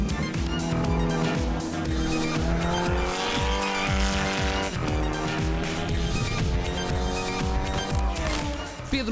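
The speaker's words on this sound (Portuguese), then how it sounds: "também veio testar o carro de José Pedro Faria" A race car roars around a track during a testing session, its engine note rising and falling through gear changes, loud and close with some tire squeal and faint talk in the background.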